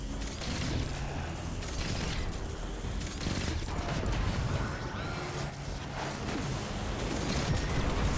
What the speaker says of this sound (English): I love this fusion rifle.